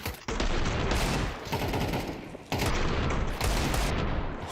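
Pistol gunfire in a Counter-Strike match, with a dense fusillade of close, sharp shots in two heavy bursts broken by brief gaps, and no talk over it.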